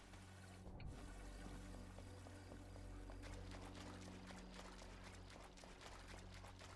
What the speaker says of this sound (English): the moat is currently draining as like I'm speaking